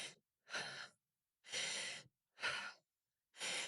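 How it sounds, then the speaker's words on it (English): Shallow, tight clavicular chest breathing from one person, close to the mic: five quick, constricted breaths, each lasting about half a second, separated by short silences, with no speech. "So if you can actually hear my breath,"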